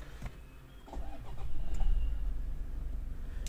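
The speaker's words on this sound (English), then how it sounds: "So let me just quickly start the car" A Toyota Fortuner's engine cranks and catches after a few clicks and faint cabin noises, then settles into a steady, low idle rumble heard from inside the car.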